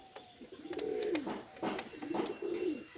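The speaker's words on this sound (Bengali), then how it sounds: "টপ ক্লাস মায়া কবুতর" Pigeons coo close by, several soft, rolling calls in a slow rhythm, fairly quiet with no talking.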